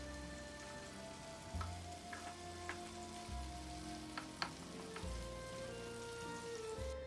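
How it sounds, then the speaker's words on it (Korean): Korean meat patties (donggeurangttaeng) fry in plenty of cooking oil with a soft, continuous sizzle, scattered small pops and a low background hum. "저는 식용유 넉넉히 넣어야 지글지글 거리는 맛에 또 맛있게 먹지요"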